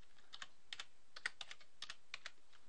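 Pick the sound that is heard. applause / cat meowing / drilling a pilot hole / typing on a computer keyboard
typing on a computer keyboard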